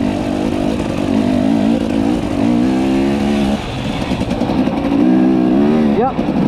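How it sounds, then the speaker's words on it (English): Husqvarna TE300i two-stroke enduro motorcycle ridden with a broken clutch, a loud close engine buzzing and revving in uneven surges with rising pitch, while a person talks over it. "Let's see how we ride a bike with no clutch."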